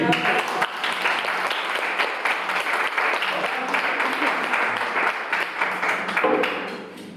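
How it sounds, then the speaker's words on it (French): A crowd claps for a participant at a Messmer hypnosis stage show, steady dense applause filling the whole span and tapering off in the final second, with a voice speaking underneath. "Avec le 3, mais on l'applaudit."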